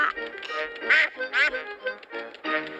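Cartoon duck quacking in a Peppa Pig episode, a run of bright, nasal quacks in quick uneven bursts, close and loud with no talk over them.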